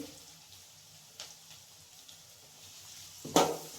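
Onions with curry leaves, turmeric and salt fry in a pan for an egg fry, a soft steady sizzle close by with faint stirring clinks and a sharper scrape near the end.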